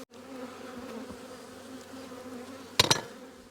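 Honeybees buzz in an open hive during a spring inspection of weak colonies, a steady low hum running throughout with a brief louder burst of buzzing and handling noise near the end.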